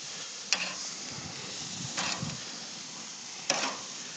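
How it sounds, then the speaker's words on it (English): Meat searing on a hot BBQ grill to put sear lines in it, a soft steady sizzle broken by three brief louder bursts as pieces are pressed or moved on the grate. "Right now I'm putting sear lines in it"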